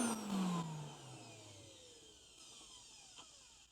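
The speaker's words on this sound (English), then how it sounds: "So I want to take a listen to this motor and see how it sounds." A twenty-year-old Riccar 8850 vacuum cleaner motor is bumped briefly, its whine dropping steadily in pitch as it winds down smoothly into a faint fading spin.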